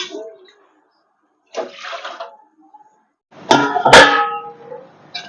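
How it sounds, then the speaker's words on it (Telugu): Water is poured into a steel cooking pot that still holds cooked flour dough, for a ghee and jaggery sweet: a short splashing pour, then a louder, longer gush with a voice speaking briefly over it. "వాటర్ అయితే వేసేస్తున్నాను నేను"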